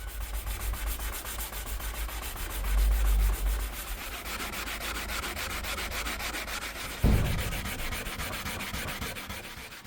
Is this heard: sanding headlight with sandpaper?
yes